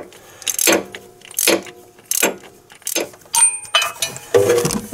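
A ratchet works loose an engine coolant temperature sensor on a 2.4 liter Ecotec engine in an Equinox, giving a series of sharp metallic clicking bursts at a steady, roughly even rhythm, close and alone.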